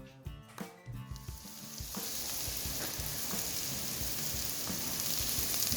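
Food sizzles on a $30 Aldi griddle at Smallwood State Park in Maryland: a few clattering knocks at first, then a steady, dense, close hiss that holds level to the end, with no voices.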